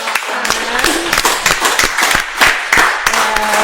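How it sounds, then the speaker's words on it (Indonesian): A studio audience at a film talk show claps on cue, a loud, close burst of individual sharp claps mixed with a few voices, continuing throughout. "kita beri tepuk tangan dulu dong"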